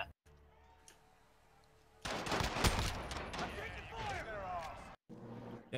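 Video game gunfire from a multiplayer shooter breaks out in a loud, rapid burst of overlapping shots after a quiet opening, with players talking over the shooting.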